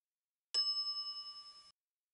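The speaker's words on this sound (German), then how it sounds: "ich klingel mal" A shop bell rings once in The Secret of Monkey Island, a clear, bright metallic ding with a shimmering decay that fades over about a second, alone in silence.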